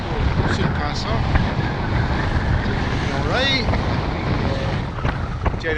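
Steady rushing wind and water wash aboard a sailboat under full sail in 16 to 18 knots off the Sound of Mull, a continuous broadband roar with faint creaks and a brief whistling tone midway.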